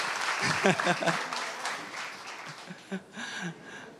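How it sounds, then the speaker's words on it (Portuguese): Audience at a family congress applauding the helpers, a burst of clapping under a voice that thins out into scattered claps and voices as it fades. "Vamos dar uma salva de palmas aí para os nossos ajudadores."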